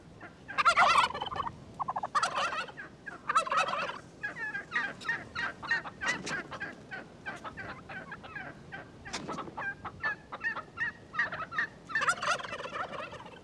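Wild turkey gobbles in repeated rattling bursts, loud and close, with several calls scattered through the stretch and no talk over them.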